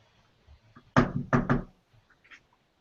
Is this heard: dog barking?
no